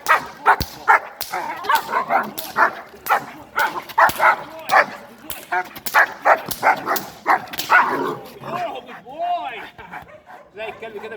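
A local Egyptian street dog being trained for guarding aggression barks repeatedly in sharp, loud bursts with yips and whimpering, close by and irregular, while someone talks between and over the barks.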